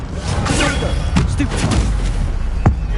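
A fire spell cast in Hogwarts Legacy bursts out as a loud, dense whoosh with low rumbling thuds, ending in one sharp crack near the close.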